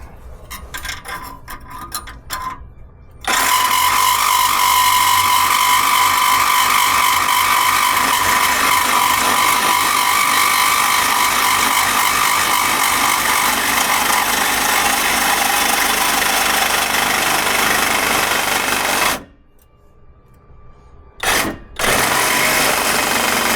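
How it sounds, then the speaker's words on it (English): A loud, steady battery power tool cuts through a car exhaust pipe in a carport, a continuous harsh grinding whine that runs close and unbroken for about sixteen seconds before cutting off, with brief bursts of startup and stopping around it. "But let's cut this exhaust down."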